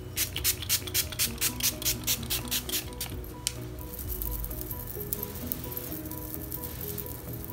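Miracle Mist hydrating spray is pumped onto a face in a quick series of about a dozen short, hissy spritzes, close and evenly spaced, then a softer fading hiss.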